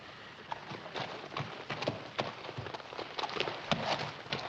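Horse hooves clip-clop in a steady, uneven rhythm, close and fairly loud, with no voices over them.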